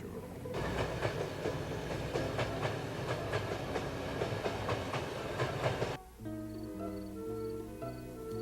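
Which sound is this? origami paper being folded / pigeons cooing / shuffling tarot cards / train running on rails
train running on rails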